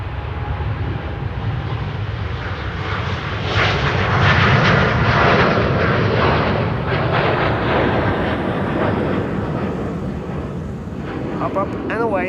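A Cathay Pacific Airbus A350-1000 jet taxis toward the runway threshold at Amsterdam Schiphol, its engines a broad steady roar that swells in the middle and holds, heard from a distance with faint talk mixed in.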